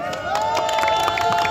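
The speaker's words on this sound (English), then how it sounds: "Give them a big round of applause, please" A crowd at a hot air balloon show in Katara village, Qatar, claps and cheers. Steady applause runs under shouts, with a sustained tone running underneath.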